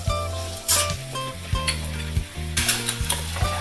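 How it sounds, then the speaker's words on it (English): Dosa batter frying in oil on a hot pan, with steady loud sizzling throughout and a few clattering, scraping bursts over a rhythmic mechanical hum in the background. "pour a bit of oil on the batter, let it cook for a bit, and then flip it, let it cook on the other side"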